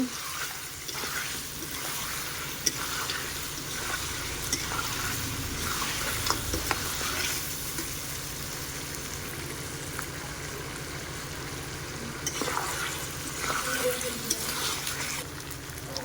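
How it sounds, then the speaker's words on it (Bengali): Ginger, garlic and chilli paste stir-fried in a pan, giving a steady close sizzle with scraping stirs and a few clinks throughout. "আদা রসুন লঙ্কা দিয়ে আমরা ভালো করে নাড়িয়ে চাড়িয়ে নিব"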